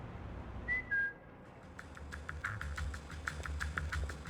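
A character in Splinter Cell: Chaos Theory whistles two short tones, followed by faint rhythmic mechanical clicks from an elevator setting in a quiet game scene.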